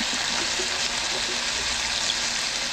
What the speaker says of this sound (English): now I'm going to add 1 can of coconut milk to this